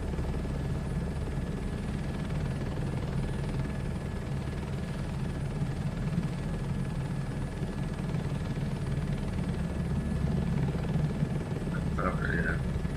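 Helicopter in Microsoft Flight Sim 2024 during a VR crop-dusting flight, a steady low rotor and engine drone holding evenly throughout, with a brief faint tonal blip near the end.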